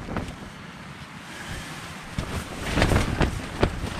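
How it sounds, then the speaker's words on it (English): Gusty wind whipping across an exposed mountain trail at 6000 feet during tropical storm Zeta, a steady broadband roar that swells louder near the end with buffeting gusts against the microphone. "Man, get that wind whipping."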